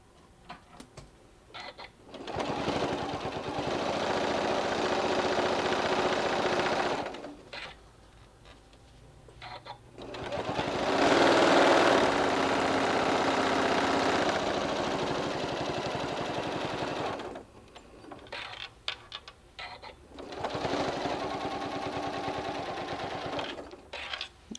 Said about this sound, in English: I'm just going to hold them all together and stitch this all the way around.